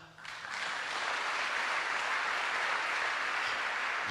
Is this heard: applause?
yes